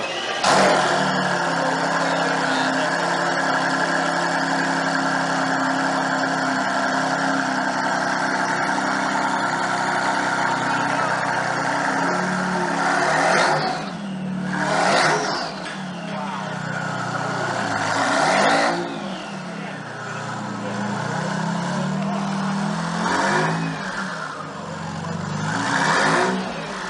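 Car engine running and revving after being started up, a steady mid-to-low engine drone throughout with several surging revs, close and loud, with some voices talking over it.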